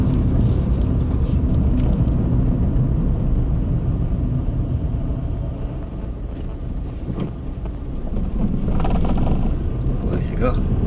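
A car drives along during a learner's first driving lesson, its engine and road rumble holding steady and loud throughout, dipping slightly partway through, with people talking inside the cabin.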